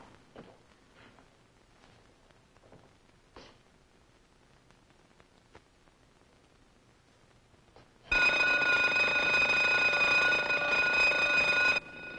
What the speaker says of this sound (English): they're going to test the alarm at the New Mercantile State Bank, so don't come out running when it goes off